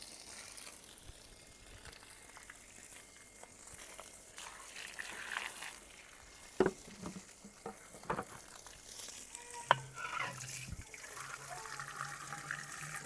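Water runs and splashes as cans are filled at a rural mud house, a steady gushing with a few sharp clanks of containers and faint voices in the background.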